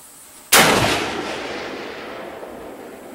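A single sharp Remington rifle shot, close and loud, followed by a long rolling echo that fades slowly.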